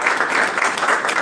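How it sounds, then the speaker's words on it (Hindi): An audience applauding loudly at an event honouring a selected Railway Technician candidate, a dense burst of clapping filling the moment with no voices over it. "उन मम्मी पापा के लिए भी एक बार जोरदार ताली बजाइए"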